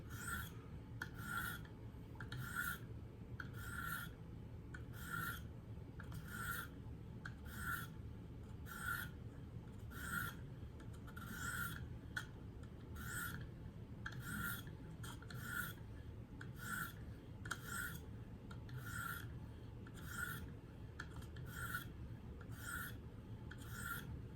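A Kershaw Reverb knife being touched up on a KME sharpener makes a quiet, regular series of rasping strokes, each a short scrape repeating at a steady rhythm over a low background hum, with no voices.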